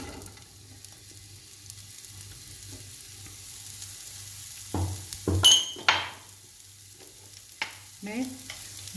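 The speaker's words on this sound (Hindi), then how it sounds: "दूसरे बर्तन में और इसी ऑयल में हम गाजरों को सौते कर लेंगे।" Carrots sautéed in oil for a Kabuli Uzbek pulao, a low steady sizzle broken by a few sharp stirring scrapes and clinks of a utensil against the pot near the end, with no talking.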